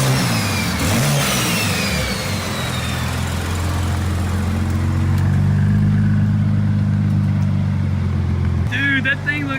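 A 2023 BMW M3 with a big turbo revs hard up close, the engine note sweeping up and settling into a loud sustained drone before dropping off, with people talking over it.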